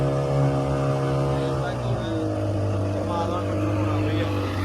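A new motorboat engine runs at steady throttle during flood relief work, a loud, close, droning hum whose pitch shifts slightly partway through as it changes speed.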